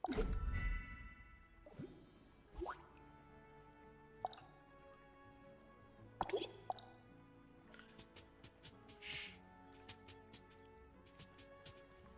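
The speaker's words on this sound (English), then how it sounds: "Just pull back to aim and let the water fly." Water squirts from a toy water launcher in the Cozy Grove video game, a soft squishy burst followed by scattered light drips, splats and ticks over quiet game music.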